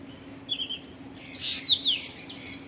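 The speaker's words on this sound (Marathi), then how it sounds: "मस्त पक्ष्यांचे आवाज ऐकायला येतात" Outdoors, birds give a few short, high chirps and calls, one brief burst and then a longer flurry, over a faint steady background hum.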